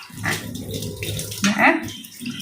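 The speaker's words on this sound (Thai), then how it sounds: "ล้างออกได้น้ำเปล่าเลย" Water splashes and runs as homemade scrub cream is rinsed off skin, with a few close uneven gushes and a voice talking over the washing.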